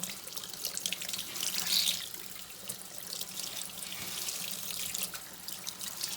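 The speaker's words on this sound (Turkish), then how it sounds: "Suyu da çok açmışım." A kitchen tap turned on high for rinsing a foundation sponge, a strong continuous gush of water into a sink, steady and close throughout.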